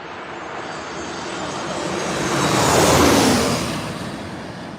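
A Southwest airliner in special livery passes close at San Diego airport, its jet roar building to a loud peak around three seconds with a sweeping hiss, then easing off.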